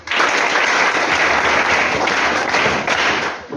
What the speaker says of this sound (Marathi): जोरदार टाळ्या झाल्या पाहिजेत त्यांच्यासाठी.